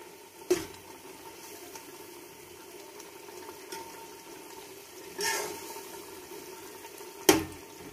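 Chickpeas fry in a little oil for chana pulao, giving a faint bubbling sizzle. Louder splashy bursts come at a few moments as the chickpeas go into the pot and get stirred.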